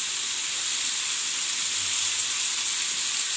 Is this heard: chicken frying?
yes